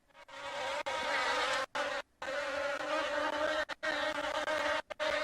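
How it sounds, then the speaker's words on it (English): A big yellow bee buzzes steadily through a room, a close, continuous drone broken by a few brief dropouts. "There's a bee in my room."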